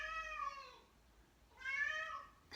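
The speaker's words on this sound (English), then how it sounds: "you can tell it's a cat." Domestic cat meowing indoors, two drawn-out, clear meows separated by a short pause, close and fairly quiet, with the start of a third cut off at the end.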